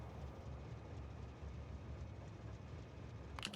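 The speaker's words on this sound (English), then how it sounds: "Trains." Trains rumble steadily through a Factorio game world, a low continuous rolling drone with a faint higher click near the end, no one talking over it.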